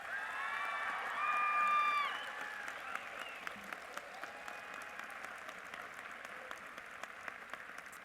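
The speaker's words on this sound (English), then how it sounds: "Please give everyone a big round of applause." Audience applause at a veterinary medicine college commencement, steady clapping with cheers rising over it early on, then settling into continuous moderate clapping with sharper individual claps standing out.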